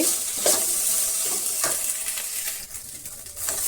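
Okra frying in a pan, a close steady sizzle with repeated scraping stirs of a spatula at irregular intervals.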